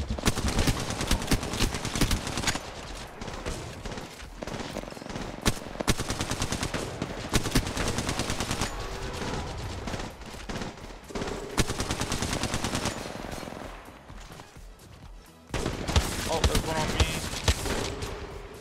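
Rapid bursts of automatic gunfire and scattered single shots from Apex Legends Mobile run almost without pause, loud and close, with players talking over the shooting.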